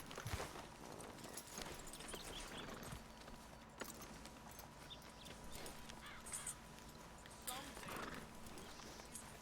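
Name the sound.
horse hooves clip-clopping, video game Red Dead Redemption 2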